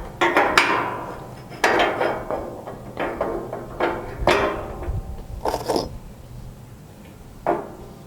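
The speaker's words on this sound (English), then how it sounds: "and then you just bolt it up right over here" Metal parts of a Pit Boss 1600 grill base knock and clank as they are bolted together, a series of sharp close taps and thuds spaced irregularly with quieter rattling between.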